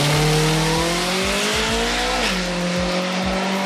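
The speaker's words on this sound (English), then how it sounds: "We're talking the SRT4, the front-wheel drive, turbocharged American Econo rocket." Dodge SRT4 with a front-wheel-drive turbocharged four-cylinder engine driving past, a steady engine drone whose pitch dips partway through, with repeated brief thumps from the road, heard fairly close.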